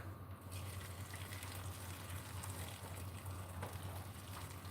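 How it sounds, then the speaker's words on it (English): Freshly boiled hot water is poured steadily over unripe plantain puree for porridge, making a continuous, even, rushing gush of liquid with no breaks or talk. "Water has been boiled, and we're gonna pour in the hot water."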